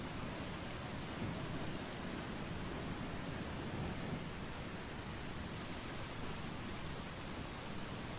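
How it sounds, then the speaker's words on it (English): Steady rain falling in the video game Eastshade, a dense, even wash of hiss that runs unbroken throughout at moderate loudness. "the mirror will be broken by the fact that it's raining"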